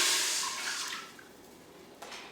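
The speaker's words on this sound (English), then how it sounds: "So I'm going to pour my 450 ml of water in the bowl." Water poured into the inner bowl of a Tefal Cook4Me electric pressure cooker, a splashing gush that tapers off into a quieter trickle, ending with a small drip or clink.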